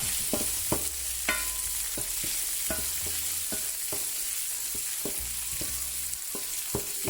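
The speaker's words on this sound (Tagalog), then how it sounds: "So we are just going to mix this using our wood spoon again in order the bacon to turn like a little bit toasted" Bacon frying in a pan for three delights fried rice while a wooden spoon stirs it, giving repeated sharp scrapes and knocks over a steady, close sizzle.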